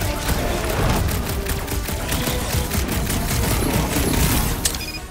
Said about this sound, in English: Did I hear blasters?